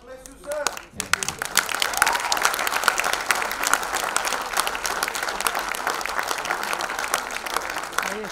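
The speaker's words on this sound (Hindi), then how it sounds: "ये तालियों की गूंज पूरे हिंदुस्तान में फैले" At a special film screening for Kashmiri Pandits, a voice speaks briefly before a full room bursts into sustained, dense applause that stays strong to the end, with a little talk mixed in.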